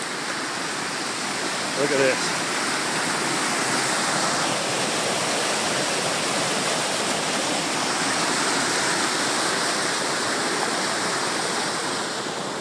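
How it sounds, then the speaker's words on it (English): A small creek swollen after several days of heavy rain rushes past in a loud, unbroken broadband roar close by. Someone speaks briefly early on over the torrent. "This is not generally a large creek, but right now it is nasty."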